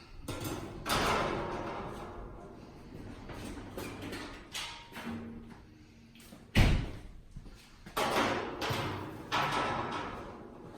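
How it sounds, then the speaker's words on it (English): Removable side doors are handled on a Strong FS series 27U server rack, giving several loud thumps, rattles and sliding metal clunks spread across the stretch, close and alone with no talk. "I'll typically take all of these doors off so that we can make our wiring really nice and neat"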